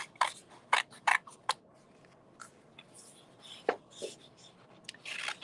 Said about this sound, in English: Now you need your scissors, and let's get snipping. So I'm just going to cut all along one edge